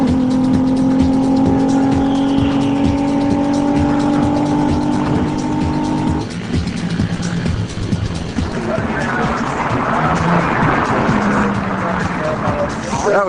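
A car drives fast through city streets, its engine revving and holding steady tones before a gear shift, then a louder, rougher roar mixed with road and crowd noise.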